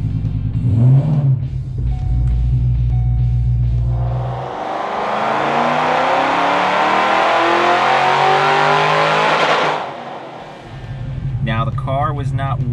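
A supercharged Ford GT500 V8 revs hard, its engine note and supercharger whine climbing steadily for about five seconds before dropping back to idle, loud and close with a rumbling idle before and after.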